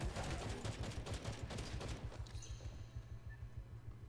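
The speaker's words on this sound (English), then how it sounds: "I can only just shoot right now." Rapid automatic gunfire in the mobile zombie game Dead Rivals rattles in a quick, steady stream of shots, loud at first and then continuing as a lower thumping rhythm.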